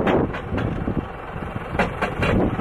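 A tractor works to pull a car stuck in snow, its engine droning steadily with rumbling surges and a few sharper bursts, close by, with no talk.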